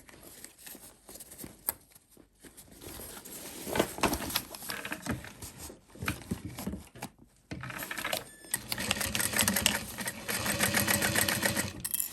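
A sewing machine stitching the pocket of a fabric shoulder bag, running in short bursts of rapid mechanical whirring and ticking with pauses between, then a longer steady run near the end, close and alone.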